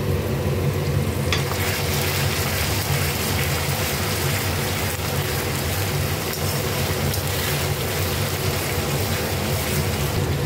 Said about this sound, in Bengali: চিনিটা দিলে কি পেঁয়াজটা তাড়াতাড়ি লাল করে ভাজা হয়ে যায়